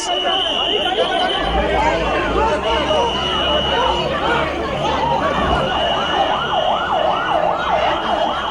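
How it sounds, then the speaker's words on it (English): A wailing ambulance siren rises and falls repeatedly outside a court complex in Manipur, blaring loudly over crowd chatter and traffic noise, with an undulating tone that grows more distinct toward the end. "As the ambulance drove out"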